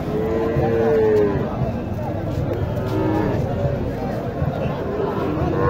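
Bulls and calves at the Mataji cattle market in Naogaon moo in long, drawn-out lows amid a busy crowd hubbub, with people talking nearby throughout.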